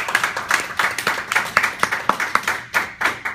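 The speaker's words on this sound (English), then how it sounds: "Applause." A small audience claps steadily for several seconds, a close, fairly sparse patter of hand claps at a quick, uneven rhythm rather than a large roaring ovation.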